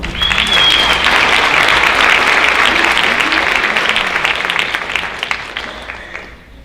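A loud crowd at a high school honors night gives a full round of applause for the people being recognized, and the clapping holds steady before tapering off at the end.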